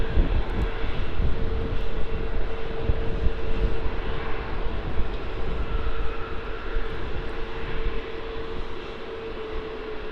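Qantas flight QF410, an airliner bound for Sydney, takes off at Melbourne Airport with a sustained jet engine roar and a steady whine, heard from a distance and fading slightly toward the end.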